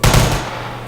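P90 firing in a Minecraft 3D gun mod, a single loud, close burst of gunfire with a sharp onset and a long, fading electronic tail.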